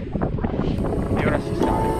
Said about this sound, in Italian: C'è un sacco di vento.